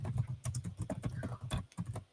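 Someone typing on a computer keyboard while entering Git configuration commands, an uneven run of quick close key taps with short pauses between bursts.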